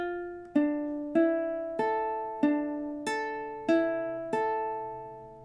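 A ukulele picks out the slow melody of a song, with eight single plucked notes in a steady rhythm, each ringing and fading. It is close and soft, with no voices.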